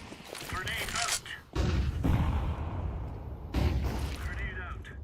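Grenade blasts in Counter-Strike 2 competitive matchmaking: several loud, booming detonations with a sharp onset near the middle and another burst later, set against continuous gunfire and game noise.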